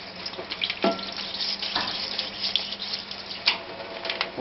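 Water sprays and splashes over a STIHL TS410 petrol disc cutter during cleaning after an engine rebuild, a steady rushing stream with irregular spattering bursts.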